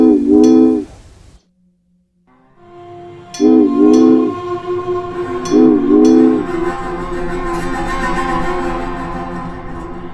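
A train in the video game Railway Empire sounds its horn in loud two-tone blasts, repeated three times with a short gap of silence after the first, over a steady rolling rumble of the train that builds toward the end.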